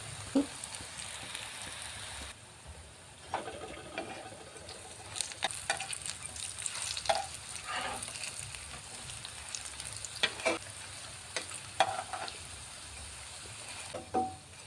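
Potato and red lentil snacks deep-fry in hot oil, giving a steady, faint sizzle with scattered crackles and pops for several seconds, no one talking.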